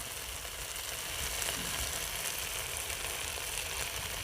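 Fresh green peas frying with spices in a pan for an aloo matar curry give off a steady, close sizzle that holds evenly throughout, with no voices over it.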